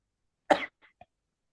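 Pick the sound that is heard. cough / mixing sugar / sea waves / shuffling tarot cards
cough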